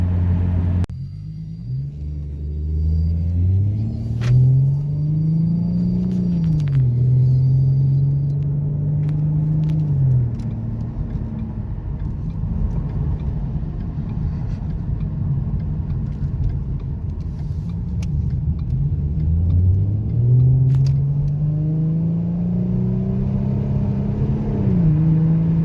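A 2014 Mustang's 3.7 V6 engine revs up strongly from idle, holds at high revs, drops back, then climbs again near the end, a loud, close, continuous rumble with no talking.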